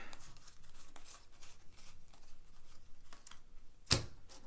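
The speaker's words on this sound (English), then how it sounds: "You can see the backs of them as I shuffle them out here." Soft handling of Star Wars Imperial Assault game cards being flipped and shuffled out, light papery ticks and slides, quiet and close, ending in one sharper card snap.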